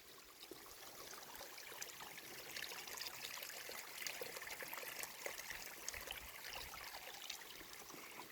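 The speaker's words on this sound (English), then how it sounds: "Oh, and a mini waterfall." A small mini waterfall trickles along a mountain creek on Mount Mitchell, a steady, moderately close splash and babble of running water continuing without a break and with no voices.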